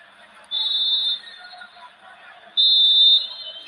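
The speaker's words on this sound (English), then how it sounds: "So there goes the Half-time. half-time whistle" Referee's whistle at half-time during a televised Serie A football match between AC Milan and Juventus: two shrill, sustained blasts about two seconds apart, each lasting roughly half a second, clear over a low crowd murmur.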